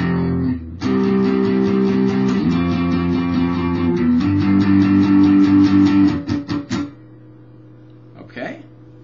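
Electric guitar playing sustained power chords that change a few times, followed by four quick percussive muted-string chucks, then a low amplifier hum with a faint brief noise near the end.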